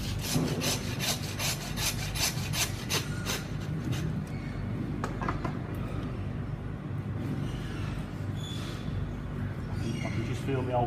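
Steady, rhythmic rasping of a saw cutting through beef bone while butchering a carcass, close and continuous, with strokes repeating evenly throughout.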